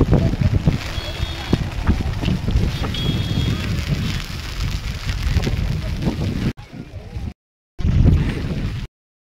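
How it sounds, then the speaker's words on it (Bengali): Rain and gusting wind outdoors during a rainy outing at Lonavala, a steady broadband roar with rumbling wind buffeting the microphone for most of the clip, cutting out briefly near the end. "এই দেখো, বাইরে এত বৃষ্টি হচ্ছে, এত বাতাস দিচ্ছে"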